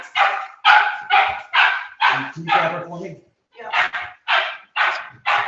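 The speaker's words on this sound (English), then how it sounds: "I apologize, my dog's going crazy" A pet dog barks in a rapid series of about ten loud, close yaps, with a brief whine in the middle, while a person speaks briefly during a remote legislative meeting at home.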